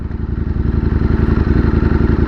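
A motorcycle engine runs close by, a loud, steady low chugging with a fast, even pulse and no voices.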